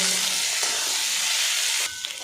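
Chopped papaya and potato sizzle loudly in hot oil in a pan, a broad continuous hiss close to the ear that dips briefly as the pieces are stirred, then carries on.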